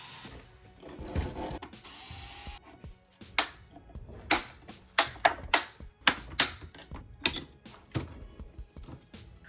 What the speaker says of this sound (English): To remove the outer bump cap, we'll take out 2 screws and gently pry it off.